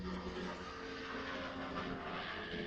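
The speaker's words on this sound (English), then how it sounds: "Big helicopter right over my house." A big helicopter passes right over a house, a steady low droning rumble with a faint tonal hum that holds throughout, fairly distant and muffled.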